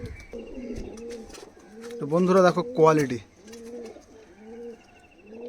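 Oman teddy pigeons coo in repeated soft, rhythmic phrases close by, while someone talks over them in the middle.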